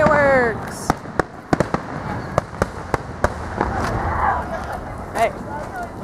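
Fireworks burst in a string of sharp, separate bangs, some close together and some spaced out, heard outdoors from a short distance while people chat and cheer faintly underneath.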